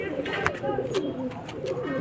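Pigeons of the Sarangpuri type coo at a pigeon sale near a vegetable market in Bhopal, with several soft low coos in a row, set against steady background chatter and street noise.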